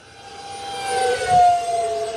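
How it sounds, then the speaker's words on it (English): A Horizon Hobby Habu SS 50mm electric ducted-fan RC jet flies past, its whining turbine tone rising and swelling to a loud peak mid-pass, then easing slightly as it continues. "This plane is flying just fine."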